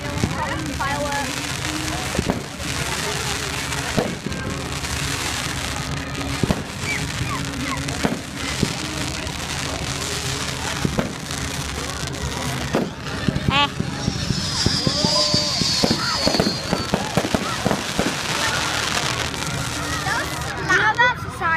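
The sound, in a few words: bonfire night fireworks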